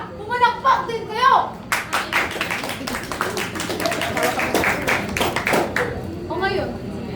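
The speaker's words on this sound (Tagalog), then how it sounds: "Pumalakpak ulit kayo!" An audience claps together in a dense, sustained burst of applause at a stage performance, with a voice speaking loudly before and after the clapping.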